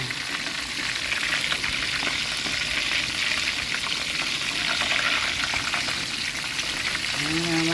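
Barracuda roe sizzles and crackles continuously while submerged in hot cooking oil, with occasional stirring and a faint voice briefly underneath near the end.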